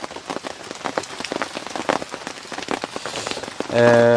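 Steady rain patters on a riverbank, a dense hiss of drops with scattered sharper splashes throughout, rising into a louder, fuller downpour near the end.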